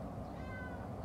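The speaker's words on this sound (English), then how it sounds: "oh my God, this cat" A house cat meows close by, a short drawn-out cry with a wavering pitch lasting about a second, heard alone over a low background hum in an indoor tack-cleaning setting.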